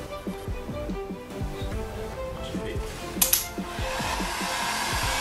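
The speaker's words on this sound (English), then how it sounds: "watch your hands on the heat gun, they do burn" A heat gun blows with a steady whooshing hiss beside a repeating low clatter, while a brief metallic clink rings out midway during work on a belt buckle.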